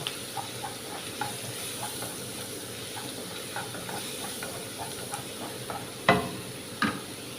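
Crushed ginger and garlic fry in hot oil in a pan for a squid roast, hissing and sizzling steadily with light stirring scrapes and a couple of louder clinks near the end, close up with no talking.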